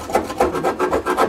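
Thin saw blade scraped back and forth inside a gas stove burner, giving a close, steady run of rasping strokes, about six even passes with a gritty metallic scrape.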